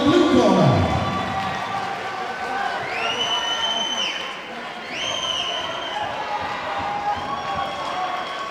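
The crowd at a Welsh elite amateur boxing final cheers and applauds a fighter in the blue corner, a continuous wash of clapping and crowd noise with a few whistle-like calls and voices mixed in.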